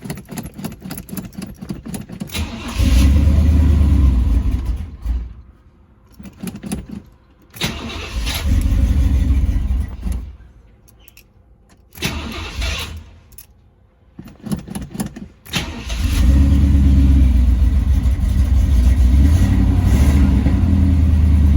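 An old classic car engine cranks and catches several times, surging into loud rumbling runs between quieter pauses before settling into a steady, throaty running note close by.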